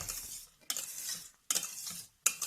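Egg whites being gently folded into hot pudding mixture for a melktert: three soft bursts of wet, scraping stirring strokes, each followed by a quiet pause, heard close with no voices.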